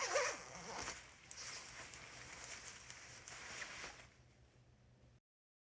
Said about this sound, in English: I'll unzip my jacket